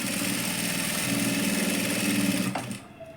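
A sewing machine runs a steady rapid stitching whir on a blouse seam, close and continuous, then slows and stops near the end with a small click.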